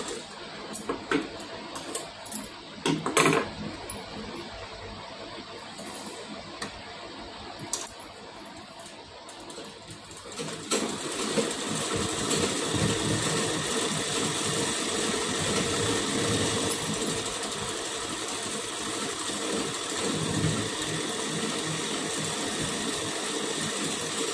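A sewing machine stitches a blouse, first with scattered clicks and handling of the cloth, then settling into a steady continuous whirring run for the second half, close and moderately loud, without speech.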